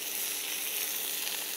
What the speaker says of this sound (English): Starting to get some lovely char marks on the lamb.